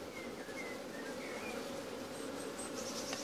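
A bumblebee buzzes steadily and close among flowers, a continuous low drone with faint high chirps scattered in the background.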